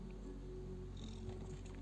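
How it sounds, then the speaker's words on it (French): A domestic cat purrs close by, a steady, soft low rumble that runs unbroken through the whole moment with no talking over it. "Voilà le chat maintenant."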